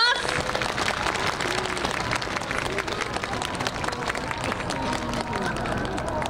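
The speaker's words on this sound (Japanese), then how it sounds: "拍手をお願いします。" An outdoor crowd applauds after a guard dog training demonstration at the Komaki Air Base open base event, a dense, steady patter of clapping with murmuring voices mixed in.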